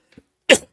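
A single sharp sneeze bursts out close up after a soft intake of breath, then silence.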